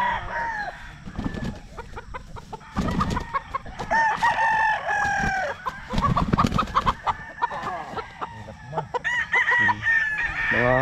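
Brood stag roosters crow repeatedly and loudly at close range, overlapping one another, with clucking from other chickens between the crows.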